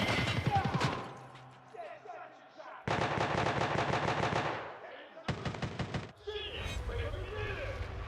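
Rapid automatic gunfire crackles in bursts in a multiplayer shooter video game, with quieter gaps between volleys and a few single shots.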